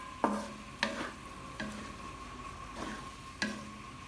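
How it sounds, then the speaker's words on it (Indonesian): Spatula scrapes and stirs food in a frying pan over a low flame, five distinct scraping strokes spaced about a second apart over a faint steady sizzle, with no talking. "Kita aduk-aduk dulu, ratain."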